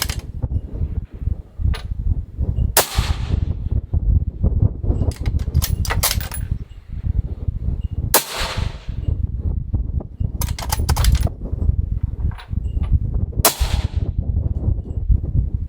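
A 6.5 Creedmoor precision rifle fires three loud, sharp shots spaced several seconds apart outdoors. Each shot has a brief decaying tail, with a steady background rush and small clicks in between.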